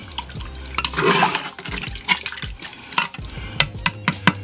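A spoon stirs a wet Mongolian beef sauce mixture inside a Power Pressure Cooker XL pot, making close, sloshing scrapes and irregular clinks against the metal.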